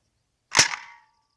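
A single crossbow shot fired outdoors, one sharp close snap with a brief ringing tail, then silence.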